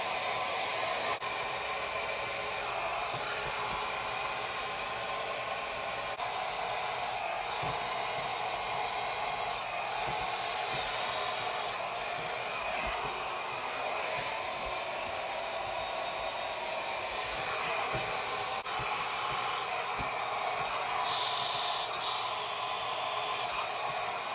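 A Shark hair dryer runs steadily on low fan and low heat, giving a continuous airy hiss close by that holds throughout with small fluctuations and no talking.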